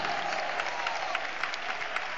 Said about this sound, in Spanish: Dar un aplauso grande a Dios Todopoderoso.